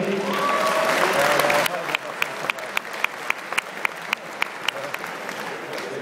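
Crowd applause in a Lausanne hall for ringman Martin, dense clapping that thins after a couple of seconds into a few scattered claps, with a voice speaking over the start.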